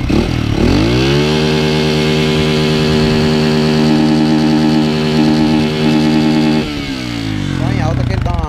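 A motorcycle with a cheap aftermarket exhaust and a faulty fuel pressure regulator climbs to high revs and holds a steady, loud drone for several seconds before dropping back to a rough idle.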